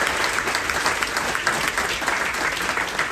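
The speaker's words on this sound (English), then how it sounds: "please, give them a big round of applause to all those World War II vets out there" At a carnival military appreciation event, an audience gives a loud, sustained round of applause for World War II veterans, with dense clapping that runs unbroken throughout.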